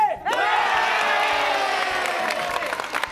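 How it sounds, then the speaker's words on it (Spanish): An audience at a comedy show in an arena ring breaks into a loud, sustained roar of cheering and whooping with scattered clapping, rising suddenly and holding for several seconds before thinning slightly at the end. "¡Aplauso para los que quieren que cante!"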